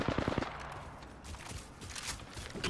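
Rapid automatic gunfire from an Apex Legends match crackles in dense, continuous bursts at a low volume.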